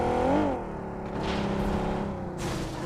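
Car engine in the mobile battle-royale game PUBG Mobile, a steady droning motor with a pitch shift early on, moderately loud and continuous with no talk.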